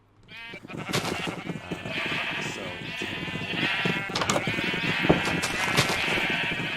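A crowd of sheep penned in cells beneath glass in a Minecraft-style block game, bleating constantly in a dense, overlapping chorus that stays loud and close throughout.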